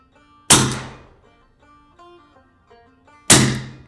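Two sharp, loud shots about three seconds apart from a Western Mordax Viper air gun, each with a fast decay, separated by faint mechanical clicks and rattles.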